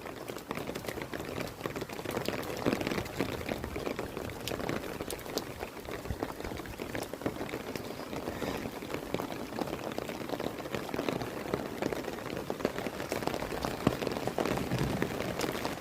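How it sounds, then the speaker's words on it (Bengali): Rainwater runs through a street drain during a downpour, a steady gurgling rush mixed with pattering drops that holds at an even level for the whole stretch, with no one speaking. "আর এই যে ড্রেন দিয়ে এখন বৃষ্টি যখন জল যাচ্ছে"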